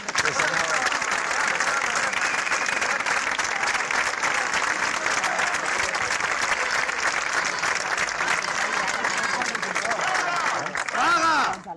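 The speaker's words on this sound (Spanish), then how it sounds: "un altre aplaudiment, sisplau" Sustained audience applause at a political gathering, a thick continuous wash of many hands clapping for several seconds, loud and steady, with crowd voices mixed in and a few louder cheers near the end.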